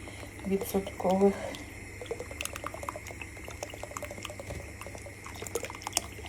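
Two hundred millilitres of 10% cream is poured into a pot of Tom Yum soup, a soft, close liquid trickle that continues for several seconds after a brief voice at the start.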